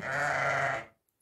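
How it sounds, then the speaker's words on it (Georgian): A single sheep bleat, loud and close, lasting under a second before cutting to silence. "ცხვარი"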